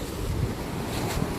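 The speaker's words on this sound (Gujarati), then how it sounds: "મોજું આવ્યું." A sea wave breaks at Singham Point in Goa, a brief, close, rumbling wash of surf heavily mixed with wind buffeting the microphone.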